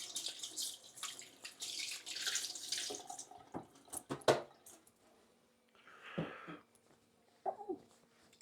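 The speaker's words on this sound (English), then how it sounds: "I'll quickly wash my hands." Tap water running into a kitchen sink during hand washing, a soft steady splashing rush for a few seconds, then scattered drips, clinks and light handling noises, fairly faint and close, with no voices.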